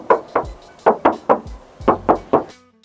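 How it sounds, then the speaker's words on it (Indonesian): Eight sharp knocks on the steel engine hood of a 2018 Suzuki Baleno hatchback with a 1400 cc engine, falling in uneven pairs and groups, close and loud with no talking. "Untuk kap mesinnya ini masih ngaleng. Kita tes ketok dulu."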